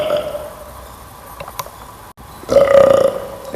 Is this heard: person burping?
yes